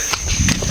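A pig bought for a family reunion feast gives a short, loud burst of harsh squeals and grunts, close up, with no talk over it.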